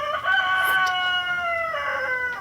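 A rooster crows one long, loud, drawn-out call close by, with faint clucking behind it and no talk.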